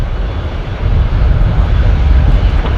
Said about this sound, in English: But then you got a Fokker 70 pushing back from Bay 46.